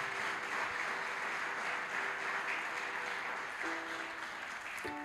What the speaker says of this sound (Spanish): Denle un aplauso, querido.